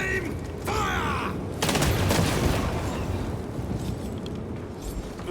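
A firing squad volley from the video game Warhammer 40,000: Space Marine II, heard as a loud burst of gunfire that breaks out midway and rumbles on under battlefield noise, after a short shouted command.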